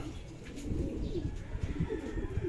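Racing pigeons coo and flutter at a home loft as birds return one by one after a 92 km race in San Jose, Nueva Ecija; steady low cooing and soft wing noise fill the whole stretch.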